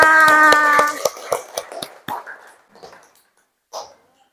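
A primary school class applauds during a science lesson, starting with a brief sung or chanted cue followed by a rhythmic run of close claps that thins out and fades into quiet.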